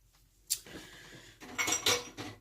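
Hot glass canning jars of Italian seasoned mushrooms clink down onto a kitchen counter, one sharp set-down followed by a cluster of closer glassy knocks and scrapes.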